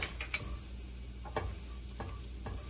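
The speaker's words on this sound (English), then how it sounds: "I'm gonna add my Jamaican curry powder, stir that" Jamaican curry powder stirred into hot oil with golden-brown sautéed onions, giving a soft background sizzle broken by a few light spoon scrapes and taps at irregular intervals.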